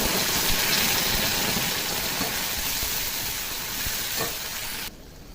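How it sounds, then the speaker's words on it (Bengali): Prawn heads fry in a pan of oil with browned chopped garlic, giving a steady, fairly loud broadband sizzle and hiss that runs without pause and then drops sharply near the end. "চিংড়ি মাছের মাথাটা যতক্ষণ সুন্দর করে না ভাজা হয়ে যাচ্ছে ততক্ষণ কিন্তু আমি এটাকে ভেজে নেবো সুন্দর করে কষিয়ে নেবো"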